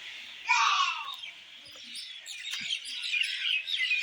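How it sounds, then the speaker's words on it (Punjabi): A sparrow chirps in bright bursts, a loud close flurry early on followed by a softer, busier run of tweets, with faint background noise between calls. "ਦੋਸਤੋ ਫਾਈਨਲ ਚਿੜੀ ਆ ਗਿਆ ਏ"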